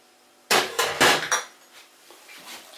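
Curd is crumbled in a pot, with a short burst of four or five clattering knocks and scrapes against the pot, then quieter faint scraping.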